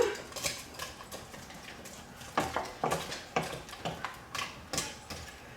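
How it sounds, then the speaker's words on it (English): Frozen shrimp tossed into a pot of fish soup and stirred, producing a run of close, sharp clinks and scrapes from a utensil against the pot in an irregular rhythm. "And I'm just going to toss those shrimp in. Quickly stir them in."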